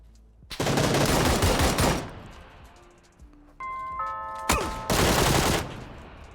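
Loud bursts of rapid gunfire in PUBG, two long sustained volleys separated by quieter game sounds and a few electronic chime tones.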